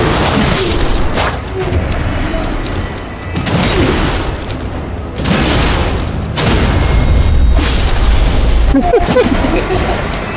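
A burst of spell-casting explosions in Elden Ring, several loud booming blasts in quick succession that come in waves with short gaps, over dense low rumble.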